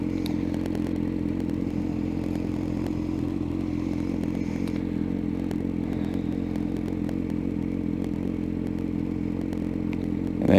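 A motorcycle engine hums steadily and loudly at low revs throughout a downshift during a riding lesson, with faint clatter and scraping over a constant drone and no clear rev change.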